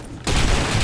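A single loud sniper rifle shot in a video game cracks in abruptly and carries a heavy, sustained boom to the end of the short moment.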